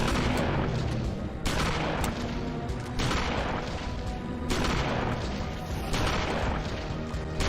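Shotgun blasts in Eternal Darkness: Sanity's Requiem, a dense, loud barrage of booming discharges with sharp breaks near one and a half, three and four and a half seconds, steady and unbroken by talk.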